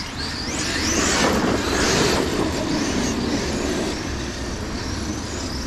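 A Traxxas X-Maxx RC truck on Pro-Line Badlands MX57 tyres drives nearby, its electric motor whining and rising in pitch over a continuous rumble of tyres on the ground.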